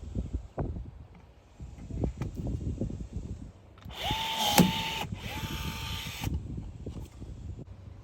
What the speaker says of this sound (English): Love that rivet tool. That thing is so easy to use.